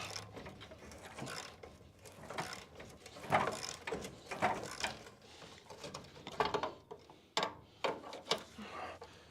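A threaded part on a Crew Cab Charger build being turned by hand, giving a run of uneven ratcheting, clicking mechanical bursts up close, with short pauses between turns.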